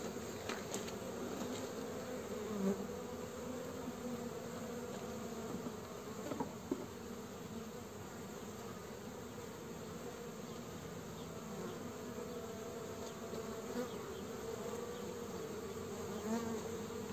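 Honeybees and drones hum continuously over an open hive frame of honey and drone brood, a dense close buzzing swarm with occasional louder passes.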